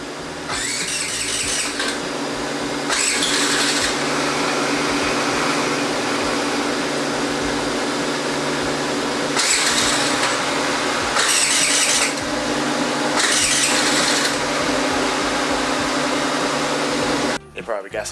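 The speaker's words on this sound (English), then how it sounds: "Let's see if I can get this thing started" A Ford Mustang that has sat unused for a long time and probably has bad gas cranks over in several separate bursts without clearly catching, with a steady mechanical drone and someone talking between attempts.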